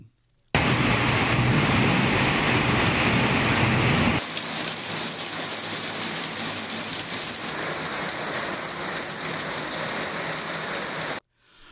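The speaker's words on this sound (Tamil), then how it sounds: "திடீரென மாலையில் இருள்மேகம் சூழ்ந்து இடியுடன் பெய்த மழையால் வெப்பம் தணிந்து" Heavy evening rain pours down in Kodaikanal, Tamil Nadu, as a loud, continuous roar close by, with a sudden shift partway through from a deep, rumbling wash to a brighter, hissing downpour.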